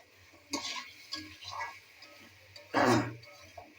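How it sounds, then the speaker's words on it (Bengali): Taro pieces with spices are stirred and fried in a pan, with a few scraping strokes and one louder, longer scrape near the end over a faint sizzle, close and quiet with no talk. "এবার কচুটা দিয়ে ভালো করে নেড়ে চেড়ে কষিয়ে নিন"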